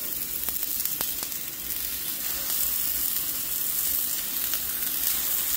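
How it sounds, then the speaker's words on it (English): Four hamburger patties fry in a pan with a constant, even sizzle and a few faint clicks, close and steady throughout, no speech. "put these 4 patties in here and cook them up"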